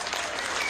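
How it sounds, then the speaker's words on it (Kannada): A crowd applauding at a Congress political meeting in Shivamogga, a brief dense wash of clapping with no break. "ಚಪ್ಪಾಳೆ ಮೂಲಕ ನೀವು ಎಷ್ಟು ಚಪ್ಪಾಳೆ ಕೊಡ್ತೀರಾ"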